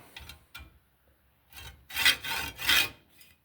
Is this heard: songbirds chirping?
no